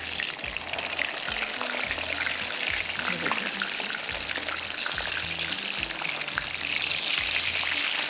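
Chicken kebabs frying in a pan, a continuous crackling sizzle running steadily throughout with occasional stirring, while someone talks over it.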